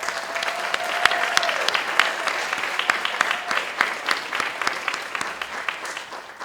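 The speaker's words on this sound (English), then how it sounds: "I want to ask everyone again, to give you a big round of applause" A large audience at an awards ceremony claps steadily for an award winner. The applause is dense and sustained throughout, with many sharp individual claps standing out in the crowd.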